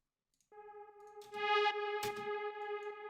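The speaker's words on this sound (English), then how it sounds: "So I took this horn. I play only like a small note," A single sustained synthetic horn note for a hard techno track rings out with a bright, harmonically rich tone after a brief silence, holding steady with some distortion and a short noisy burst partway through.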